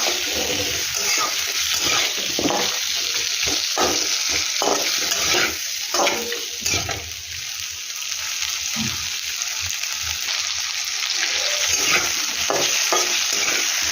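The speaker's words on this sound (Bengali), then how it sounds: "এই আদার সব দিয়ে এটাকে একটু ভালো করে নেড়ে নেব" Fish pieces with spices and ginger being stirred in a hot pan for a fish curry, a loud continuous sizzle with repeated scraping and stirring strokes throughout and no talking.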